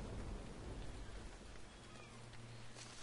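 Stormy night outside a lighthouse in the Mystery Case Files: Ravenhearst video game, with steady heavy rain hissing throughout and a low, rolling rumble of thunder beneath it. No voices.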